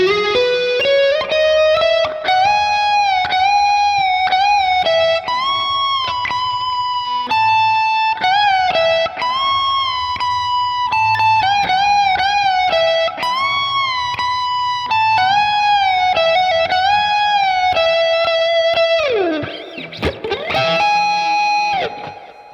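Electric guitar plays a song as a tutorial demonstration, a clean melodic line with slides and bends carried steadily and close at a loud level, with no talking, ending in a brief strummed flourish.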